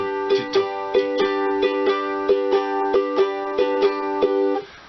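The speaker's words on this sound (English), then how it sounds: "Now you can play it with a shuffle rhythm," Ukulele strummed in a bouncy shuffle train rhythm for rock and roll, steady repeated chord strokes with uneven long-short spacing, close and clear with no talking, ending with the chord cut off.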